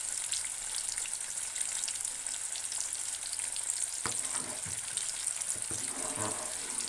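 Potatoes fry in hot oil with a continuous bright sizzle, close and steady, broken near the end by a few stirring clinks and scrapes in the pan.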